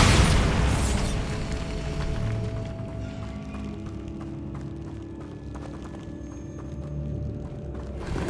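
A Bombarda spell explosion in the video game Hogwarts Legacy opens with a loud booming blast that fades into a long rumbling tail, with lighter game sounds scattered over it.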